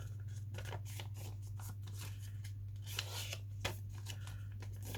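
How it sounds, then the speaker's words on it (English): Scissors snipping through paper, likely a manila file folder, during small handmade journal crafting; a run of crisp cuts and rustles over a steady low hum, close and fairly quiet. "I'll just cut it with these scissors"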